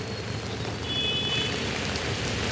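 Heavy monsoon rain pours down in Mumbai during waterlogging, a dense, steady roar of drops on surfaces, loud and continuous throughout with no voices.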